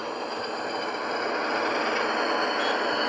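Model PRR RF-16 locomotives, Model Power and Roco A and B units fitted with new motors, running on track with a steady, even motor whir and rolling hum that grows slightly louder, no talking.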